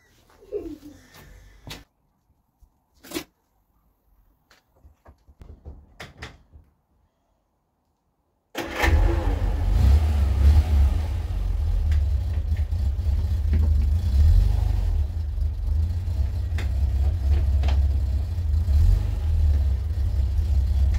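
Several seconds of quiet clicks and clunks give way to a Vauxhall Viva HC engine firing up and settling into a loud, steady, rumbling idle that runs to the end.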